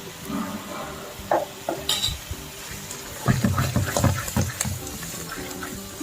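A spoon stirs carrot halwa in a metal pan, giving irregular scraping and clinking strokes with soft sticky, sizzling textures between them.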